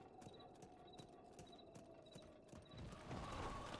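A horse trots in a Zelda game in the Akkala region, its hooves clip-clopping in a steady, even rhythm at moderate volume before a louder rushing swell takes over near the end.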